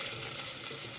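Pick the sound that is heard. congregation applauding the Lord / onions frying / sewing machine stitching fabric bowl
onions frying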